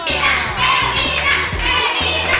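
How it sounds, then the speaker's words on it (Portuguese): Girls in a children's TV show studio audience cheer and shout for their team, a dense, loud wash of young voices continuing throughout, with rhythmic music or stomping underneath. "Eu quero ouvir só a torcida das meninas."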